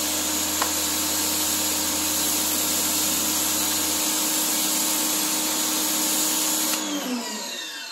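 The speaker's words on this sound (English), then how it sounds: "All right, here's the rotary nozzle." A Stihl RE 90 electric pressure washer sprays through a rotary nozzle, giving a steady, loud motor drone and water hiss that cuts off near the end.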